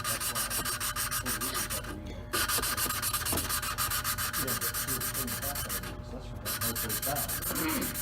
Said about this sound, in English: put the little suction cup on the valve, and then take and just move it like you're trying to start a fire